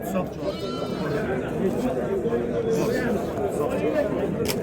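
Sheep bleat intermittently amid a busy crowd, with people chattering throughout in a noisy outdoor livestock market.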